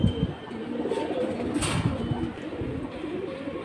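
Pigeons cooing in a loft, soft low repeated coos with a brief flutter of wings midway, mixed with faint background chatter.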